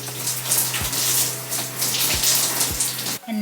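Water running steadily from a tap while homemade scalp scrub is rinsed out of natural hair, a continuous close splashing rush broken by a few soft thuds, with no voices.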